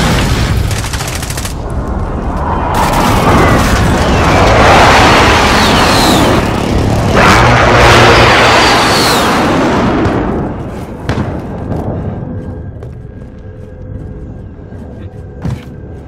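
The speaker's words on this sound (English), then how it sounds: "Allied precision airstrike incoming." Several heavy explosions from a precision airstrike in the video game Call of Duty: Modern Warfare Warzone, booming in overlapping bursts for about ten seconds before fading into quieter rumbles and scattered distant bangs.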